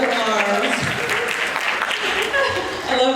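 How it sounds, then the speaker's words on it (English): Audience applause for Beyonce at a maritime archaeology talk, a dense continuous clapping wash that holds steady for about three seconds and carries some voices and light laughter. "I love that you guys clapped for Beyonce"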